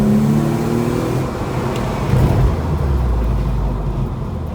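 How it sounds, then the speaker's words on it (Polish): A Mercedes CLK320 engine in an unibody swap project is floored at full throttle, a loud, close, sustained roar with a rising whine that holds steady for several seconds before easing slightly. "Teraz mu na przykład depnę do podłogi."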